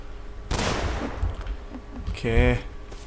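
A burst of rapid gunfire in the video game Rust erupts after a brief quiet, followed by scattered shots and a short electronic tone, loud and close.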